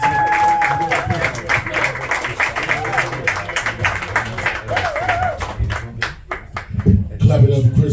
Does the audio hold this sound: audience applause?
yes